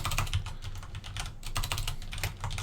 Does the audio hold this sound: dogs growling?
no